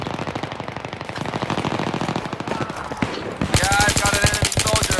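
Rapid automatic gunfire from the video game Battlefield 3, a dense sustained burst of machine-gun shots that continues throughout and grows louder near the end, with excited voices shouting underneath.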